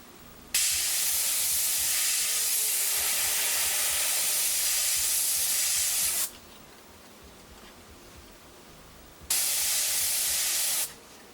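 An airbrush sprays paint for a light dusting in a long steady hiss of about six seconds, then a pause and a shorter second burst, close and alone.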